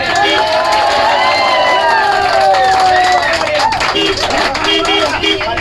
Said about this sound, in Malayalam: എല്ലാവരും കൈയടിച്ച്, എല്ലാവരും ഒരു കൈയടിച്ച്